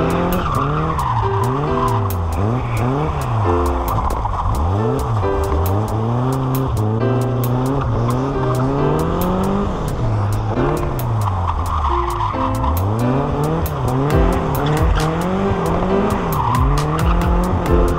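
A Ford Escort Mk2 drifts at a drift day, its engine loud and close as it revs up and down in repeated sweeps while the tyres squeal and scrub continuously through the run.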